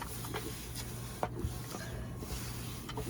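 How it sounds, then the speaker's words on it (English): An Epson inkjet printer feeds and prints on fabric, a faint mechanical whir with soft rubbing and scattered clicks, steady and close, with no talking. "But I'll put this in my printer, and I'll just print as usual."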